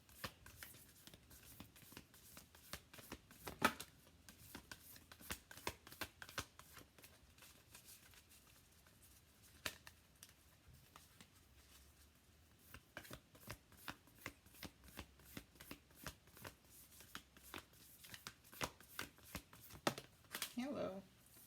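Tarot cards being shuffled and handled, with soft riffles and crisp card snaps scattered through a quiet room in steady bursts, a few louder flicks standing out near the end.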